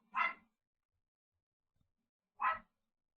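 A small dog, likely a Chihuahua, barks twice at a delivery, two sharp separate yaps with a long quiet gap between them, close but fairly soft.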